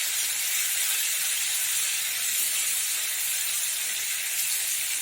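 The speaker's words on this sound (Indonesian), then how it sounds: "Ini kita hanya goreng sebentar saja." Tilapia fries briefly in oil in a Teflon pan, giving a loud, steady, close sizzle that stays constant throughout with no talking.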